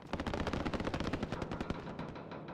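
Rapid burst of sniper rifle gunfire in a video game, a dense string of sharp repeated shots over a couple of seconds, loud and close, with no voices.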